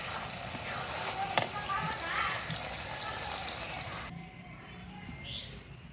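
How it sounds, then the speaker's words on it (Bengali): Water is poured into a village kitchen pan of sautéed, spice-fried vegetables for curry, giving a rushing, hissing splash against steady background noise that cuts off sharply near the end. "সবজিটা কষানো হয়ে গেছে এবার সিদ্ধ করার জন্য দিয়ে দেবো পানি"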